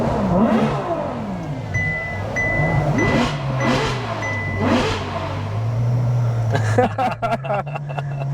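A Ferrari F12 TDF V12 engine revs repeatedly at a car meet, rising and falling in sharp bursts, then settles into a steady roar with road noise throughout.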